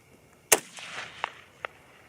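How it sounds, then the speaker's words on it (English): A sharp, loud rifle report from a .223 Remington / 5.56 mm rifle firing VMAX ammunition, a single crack followed by fainter echoing pops and distant impacts. "we're going to shoot 3 of those VMAXs again and 3 of the spear gold dots again"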